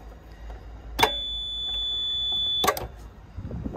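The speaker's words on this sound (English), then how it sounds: "That beep is on for as long as the blooming ignition's on" A steady high-pitched electronic warning beep from a digger's ignition sounds for about a second and a half between two clicks, over low machine rumble.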